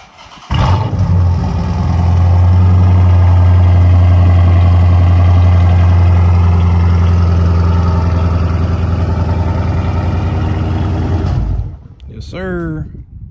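A Chrysler 300 with its 5.7-liter Hemi V8 idles close by, a steady loud low rumble running unbroken for about eleven seconds before cutting off, with a brief voice at the end.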